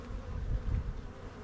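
Honeybees buzzing at an active hive in early spring, a dense steady drone close by with no voices.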